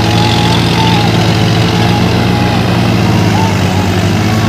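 Massey Ferguson 7250 tractor running in first gear while pulling a 7-foot desi leveller, a loud steady low diesel engine drone close to the listener, continuous throughout with a faint whine above it and no talk.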